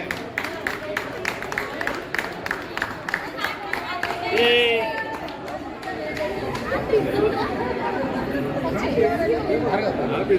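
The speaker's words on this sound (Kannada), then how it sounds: "ಚಪ್ಪಾಳೆ ಹೊಡಿರಪ್ಪ." Scattered clapping from a gathered crowd at the opening of Smart Garage, a two- and four-wheeler service shop, with steady chatter and people talking throughout.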